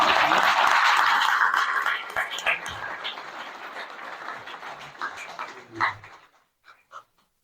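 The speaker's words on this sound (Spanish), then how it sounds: "Le damos un aplauso al general Cárdenas" Applause for General Cárdenas from an audience: a dense burst of clapping that gradually thins and fades into a few scattered claps over several seconds.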